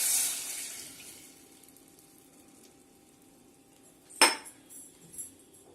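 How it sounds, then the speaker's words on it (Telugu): Milk pours into a pan set on a lit gas stove, starting as a soft, steady splashing hiss that fades away, followed later by a single sharp metallic knock. "పాలు పోస్తున్నానండి"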